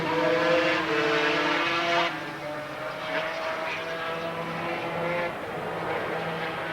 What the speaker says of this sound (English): Haslam sweeps the Works Honda out onto the main straight